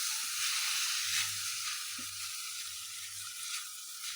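Thinly sliced ridge gourd frying in a pan on the stove, giving a steady broad hiss and sizzle throughout, with faint low clinks and stirring noises underneath and no talking.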